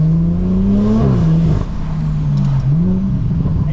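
A BMW M140i's engine revs up and eases back several times, loud and close, with the pitch climbing and dropping in uneven surges and no talking over it.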